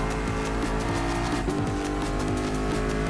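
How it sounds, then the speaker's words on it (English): An American race car in the video game Gran Turismo Sport roars continuously and loudly at high revs, with a steady engine drone and brief tire noise throughout. "This is all about the great American race car"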